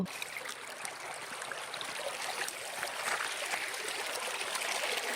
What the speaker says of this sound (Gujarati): આ છે વિશ્વનો સૌથી મોટા બીજા નંબરનો ધોધ.